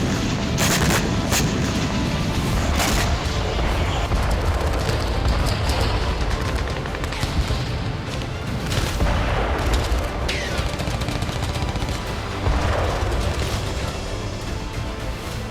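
Dense, loud booming from a bombardment in the Ukraine war, with repeated blasts and crackling impacts layered over a constant roaring wash that never lets up.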